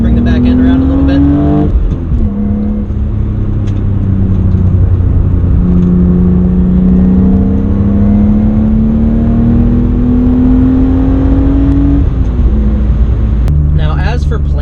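A fast older car driven hard, its engine revving loud and close with rising and falling pitch through gear changes and heel-toe downshifts, sustained throughout with a brief drop in revs near the start and a lift off near the end.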